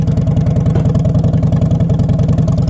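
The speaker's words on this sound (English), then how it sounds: "2011 Harley Davidson Fat Boy" A 2011 Harley-Davidson Fat Boy V-twin idles loud and close, its rapid, lumpy potato-potato pulse thumping steadily with no one speaking over it.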